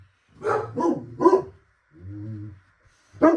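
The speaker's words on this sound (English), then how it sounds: "I don't know what they were barking at." Dogs bark in a quick burst of three close barks, then a lower drawn-out growl-like bark and one more sharp bark.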